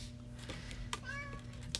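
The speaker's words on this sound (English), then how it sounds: "Sorry if you can hear my cat." A house cat gives a faint, brief meow partway through, with a few soft clicks and a low steady hum in a quiet room.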